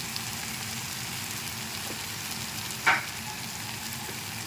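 Steady, close sizzling of field beans being sautéed in a pan with goda masala, turmeric and coriander powder for a Maharashtrian curry, an even frying hiss with one brief louder clink of stirring.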